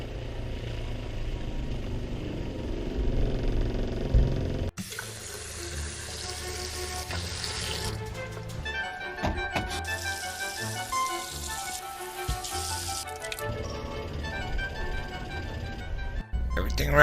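An RV water pump runs with all the faucets inside the coach open to purge air from the lines. Rushing, splashing water sputters and surges unevenly, with abrupt cuts and restarts.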